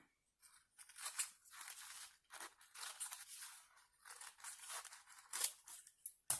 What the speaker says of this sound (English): Now I'm going to have a go at cutting around there.